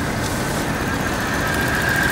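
A 1995 Mitsubishi Pajero Mini with a naturally aspirated 660cc four-cylinder engine and automatic gearbox idles close by, a steady, even hum with no voices.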